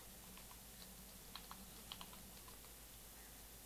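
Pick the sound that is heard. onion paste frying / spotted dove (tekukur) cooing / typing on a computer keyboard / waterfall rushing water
typing on a computer keyboard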